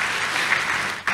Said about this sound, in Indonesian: Tepuk tangan yang paling meriah dulu buat Tuhan